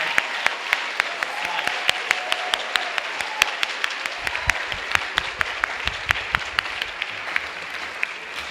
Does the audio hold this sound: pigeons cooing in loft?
no